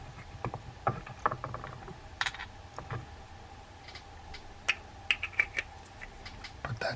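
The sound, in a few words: putting rotor back on Daiwa GS20 spinning fishing reel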